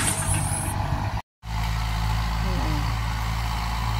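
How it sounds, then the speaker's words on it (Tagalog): A tractor arrives at a coconut plantation to plow, its engine rumbling low and steady nearby. The sound cuts out briefly, then the idling drone resumes. "Sa wakas, dumating na yung traktor."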